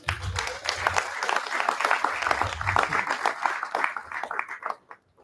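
Audience at a San Antonio press conference with Sen. Ted Cruz and local officials clapping in a dense burst of applause that fades out near the end, mixed with a little crowd noise.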